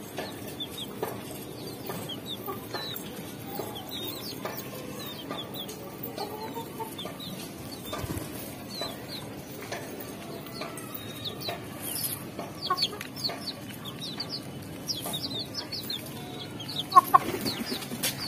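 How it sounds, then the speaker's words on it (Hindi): Chicken chicks cluck and peep in soft, scattered bursts throughout a long stretch of quiet outdoor background, with a few slightly louder calls near the end. "और ये हमारे घर के बच्चे हैं मुर्गी के"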